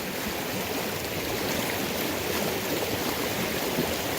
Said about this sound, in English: Something about the sound of a stream just puts you right back into perspective.